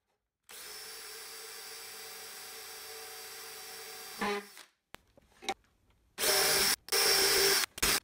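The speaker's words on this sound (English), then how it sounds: "This will help prevent the drill bit from slipping when drilling through a metal cylinder." A power drill bores through a metal cylinder, whirring steadily for several seconds before stopping, followed by a few short, harsh bursts of grinding and clatter up close.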